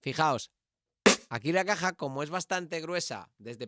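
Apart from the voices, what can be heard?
No distinct noise like a dog, phone or traffic.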